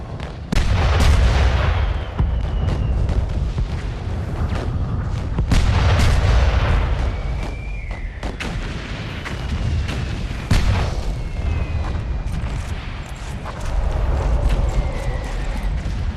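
Artillery guns in the World War I game Valiant Hearts: The Great War boom over and over across a loud battlefield, with sharp gunshot cracks and heavy blasts in a dense, continuous barrage.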